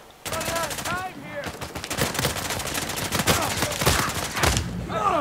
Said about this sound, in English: P90 ultimate running gun.